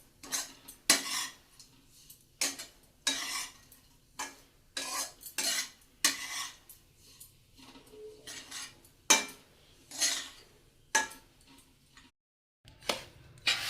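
A spoon stirs and scrapes grated coconut roasting in ghee in a metal pan while karanji is made, giving irregular clinks and scrapes, close and fairly loud, with a faint sizzle underneath and no talking.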